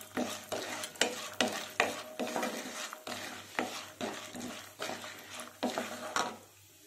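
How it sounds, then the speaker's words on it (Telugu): Urad dal and chana dal fry with mustard seeds in a pan while a spoon scrapes and stirs them in a steady rhythm of about a dozen strokes over a soft sizzle. "పప్పులు కూడా బాగా ఫ్రై అవ్వాలి."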